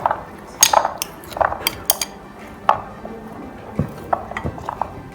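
Chickpeas tumbling into a bowl of potatoes while making chana chaat, giving a series of light clinks and taps against the bowl, scattered and uneven, fairly close and quiet.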